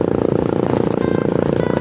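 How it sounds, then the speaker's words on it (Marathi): A Royal Enfield motorcycle's silencer gives a steady, deep, rapidly pulsing exhaust thump during a ride, loud and close, with no talk over it. "मी नॉईज कॅन्सलेशन ऑन केलेलं आहे, तरी तुम्ही सायलेन्सरचा आवाज ऐका"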